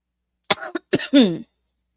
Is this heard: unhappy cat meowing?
no